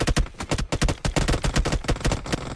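Rapid automatic weapon fire in the PUBG Mobile video game, dense loud bursts of closely spaced shots repeating without pause across the whole stretch.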